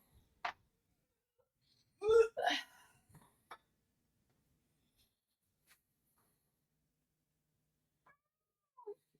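A cat gives a brief meow among long stretches of near silence, with a few soft clicks and faint scattered sounds around it.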